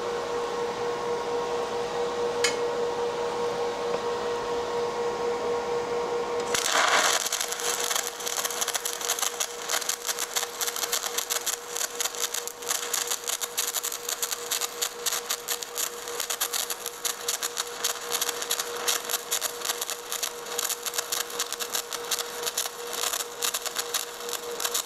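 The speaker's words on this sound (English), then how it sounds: "And we're going to try a weld here." Stick welding with a Longevity TIGWELD 250EX AC/DC TIG/stick welder and a 7018 electrode: after a steady hum, the arc strikes abruptly and holds as a loud, continuous crackling sizzle for many seconds, with no talk over it.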